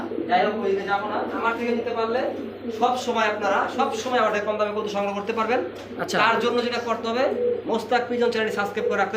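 Domestic pigeons coo in repeated soft, rolling calls close by at a wholesale pigeon sale, mixed under ongoing talk.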